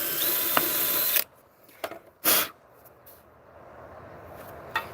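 A drill whines loudly for about a second as it bores through metal toward a hardened steel pin, then stops; a few short bursts of drilling and clicks follow against faint background hiss.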